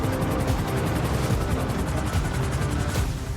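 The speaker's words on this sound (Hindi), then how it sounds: "मेरे पास हेलीकॉप्टर है।" A video game helicopter gives a steady, close rotor thump with a rapid, even beat, holding at a constant level with faint background rumble.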